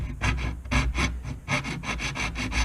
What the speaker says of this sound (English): for me, I'll just take the file.